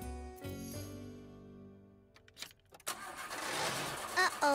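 A cartoon car struggles to start in cold, snowy weather: a steady droning hum cuts off, then the engine sputters and turns over into a rough, noisy rumble with faint jingling near the end.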